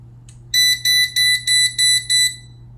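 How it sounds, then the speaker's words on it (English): A non-contact voltage tester held near a live power cord gives six evenly spaced, high, piercing beeps, close and loud over a faint steady low hum. "I just simply walk up to a known live power cord, and you can see that that non-contact voltage tester is working properly"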